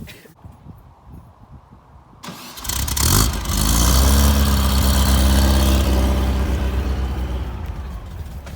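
A 1969 VW camper van engine cranks and catches after a quiet start, then settles into a loud, steady air-cooled rumble and idle, close by and alone.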